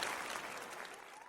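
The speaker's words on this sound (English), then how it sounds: "That's another round of applause, bruv." A short, quiet round of applause from a small group, dense steady clapping that fades slightly over just over a second.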